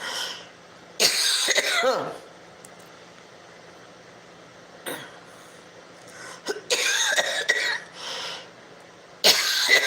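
Several harsh coughing fits break out close by, separated by quiet pauses, with a few throat-clearing rasps in between.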